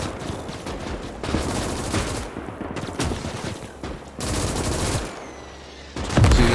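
Machine gun and mortar fire in the WWII strategy game Call to Arms: Gates of Hell, with repeated rattling bursts of automatic fire broken by short pauses and heavy thumps, ending with a loud blast.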